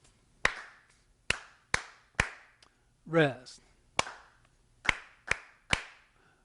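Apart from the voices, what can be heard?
hands clapping a rhythm together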